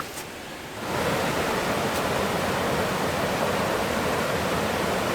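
A waterfall in Hickory Nut Gorge, North Carolina, sends a steady, loud broadband rush of cascading water that swells up after a quieter first second and then holds constant, close by, with no voices.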